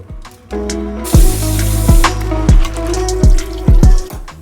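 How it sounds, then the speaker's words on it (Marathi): Tap water runs and splashes loudly over fresh spinach being washed in a sink, with irregular bursts of spray as the leaves are moved under the stream. "पालक धुवून घेतलाय"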